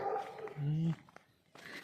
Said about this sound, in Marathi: हे कुत्रे पण आलेले आहेत